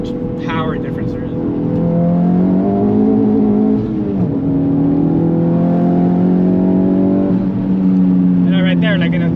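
Honda Civic Type R FL5 with a bigger turbo, built to around 600 hp, pulls hard on a straight, its engine note rising and holding loud and steady from inside the cabin while a voice talks over it.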